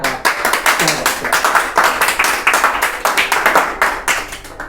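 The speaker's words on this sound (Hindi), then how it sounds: "उम्मीद थी नहीं, उससे ज़्यादा तालियां आ गई।" An audience claps steadily after a Hindi poetry recital about friendship, a dense, loud patter of many hands that continues throughout, with a few voices and cheers mixed in.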